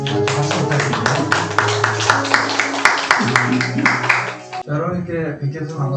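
An audience at a Pohang earthquake trauma center lecture applauds to welcome the speaker, with steady, rhythmic clapping for about five seconds that then stops as a voice begins.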